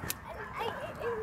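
Dogs at a dog park yip and whimper briefly at a moderate distance in a short outdoor stretch, with faint voices in the background.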